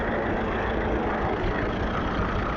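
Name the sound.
Fordson tractor engine running at steam rally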